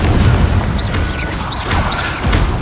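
Confringo blasting spells in the video game Hogwarts Legacy fire repeatedly, loud booming bursts with whooshing pops over a dense, continuous game soundtrack.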